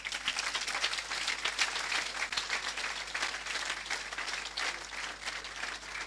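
A church congregation applauds at a baptism service, dense continuous clapping from many hands filling the room at steady loudness for the whole stretch, with no voices rising above it.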